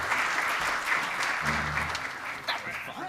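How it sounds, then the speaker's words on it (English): An audience applauds a guest named Ricardo at a GCSI gathering, giving a steady round of clapping that carries through the whole stretch with a brief low murmur partway in. "Please, let's give a round of applause to Ricardo for sharing his time with us."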